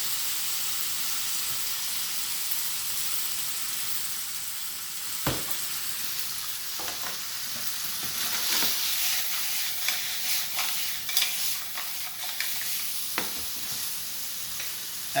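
Linguini stirred through a sizzling butter lemon sauce in a pan with mussels and shrimp, giving a steady frying hiss broken by scattered scraping stir clicks and spatters, with no talking.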